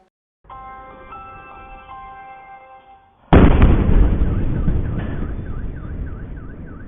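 A sudden, massive explosion at an optical-mechanical factory in Sergiev Posad, Moscow region, booms after a few seconds of quieter noise, followed by a long rumbling roar and a car alarm whooping in the aftermath.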